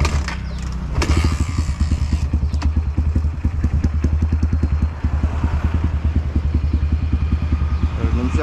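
A dirt bike engine catches with a sharp start, then settles into a loud, steady, close-up idle of rapid even pulses lasting several seconds.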